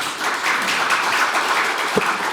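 Applause from an audience at a small business platform forum as a Gyeonggi governor candidate is welcomed to the podium, continuous mid-level clapping with a single sharper thump near the end.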